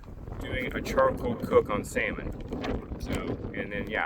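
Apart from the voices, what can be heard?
wind blowing against the camera microphone outdoors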